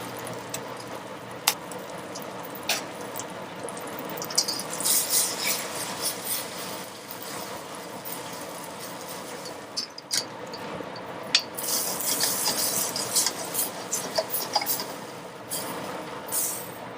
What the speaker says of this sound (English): add the cauliflower and toss it around well